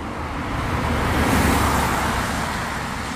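Steady roadway traffic on a roadside corner during a storm, cars rushing past continuously at moderate loudness, swelling slightly as vehicles go by, with no talking.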